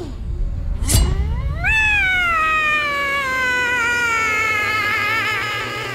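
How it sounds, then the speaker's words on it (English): A cartoon cat trying to roar lets out one long, drawn-out meow that rises and then wavers, loud and close, after a brief sharp noise. "give me a big cat roar"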